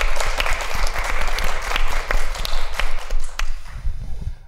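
A live audience applauds a panel at a discussion event on the Chinese Exclusion Act, with steady, sustained clapping from a sizable crowd that swells and fades over several seconds.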